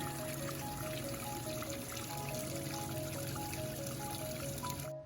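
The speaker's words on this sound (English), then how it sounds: "So here's a creek." Creek water flowing steadily outdoors, a continuous close trickling and babbling wash of even loudness, with no one talking.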